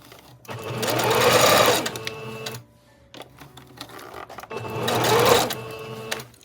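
A sewing machine stitches lace onto fabric ruffles in two loud rapid bursts of mechanical whirring, separated by a quiet pause, with no speech.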